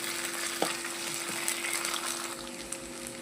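Onions with a half spoon of ginger garlic paste frying in a pan, giving a steady, moderately loud sizzle with a few faint clinks and no talking.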